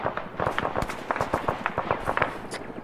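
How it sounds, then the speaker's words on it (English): Rapid sharp cracks and thuds of mortar and gunfire in a combat video game, irregular bursts of explosive pops at moderate distance, crowded together with no voices. "Incoming mortar fire."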